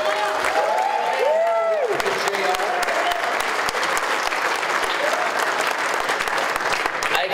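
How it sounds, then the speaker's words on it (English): An audience applauds a senior developer, a dense steady patter of clapping throughout, with a brief tonal whistle-like sound and faint crowd voices early on. "I'd like you to stand up so everybody can give him a round of applause"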